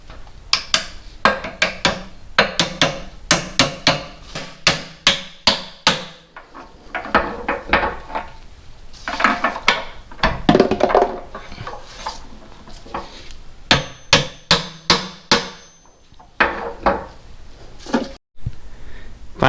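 Metal hammering as a front bearing is driven into a Farmall M tractor transmission during restoration: bursts of sharp, loud, close strikes in quick rhythmic runs, separated by pauses and quieter handling noises.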